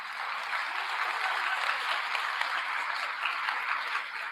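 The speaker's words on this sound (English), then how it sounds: "for a quick round of applause" An audience at a school district State of the District celebration applauds building principals, a steady, dense wash of many hands clapping at even volume throughout, with no talking over it.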